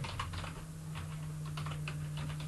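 Close, steady typing on a computer keyboard while writing code, with quick irregular key clicks over a low steady hum and no voices.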